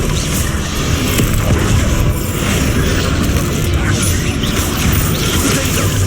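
A Bombarda spell explosion in Hogwarts Legacy: a loud, sustained roar of booming blasts and crashing debris, filling the whole moment without a break.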